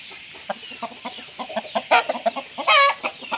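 A fighting rooster clucks close by in a steady series of short, rhythmic clucks that grow louder and end in a longer, strained call.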